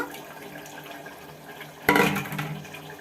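Rice pours with a sudden splash into boiling masala water, loud at first and then a rushing wash that slowly settles, with a faint background hiss before it.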